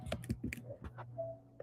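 Keys on a computer keyboard are tapped in a quick, irregular burst of soft, close clicks, a handful of strokes with short pauses.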